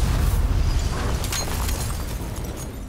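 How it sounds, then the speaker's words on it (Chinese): A train slams into a car in a film scene, setting off a loud explosion: dense, sustained rumbling boom with crackling debris, heavy low end throughout, no talk. "一辆火车呼啸着开过来，汽车瞬间被撞烂、"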